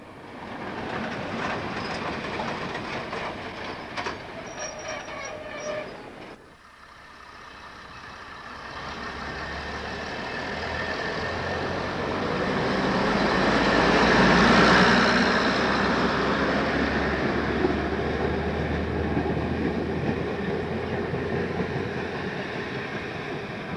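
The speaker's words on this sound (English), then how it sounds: "heavy freight trains pass to and fro from Immingham" Heavy freight trains pass to and fro through Ulceby station on the line from Immingham, a loud, steady rumble of wagons building to a peak mid-clip, preceded by a brief clattering passage with faint tones.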